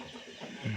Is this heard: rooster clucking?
yes